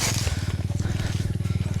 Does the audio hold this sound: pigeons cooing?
no